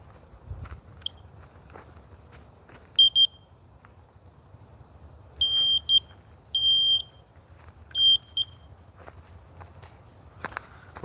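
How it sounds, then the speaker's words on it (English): A handheld metal detector gives short, high electronic beeps, four or five brief tones spaced a second or two apart in a quiet indoor room, with soft footsteps and shuffling between them. "Metal detector."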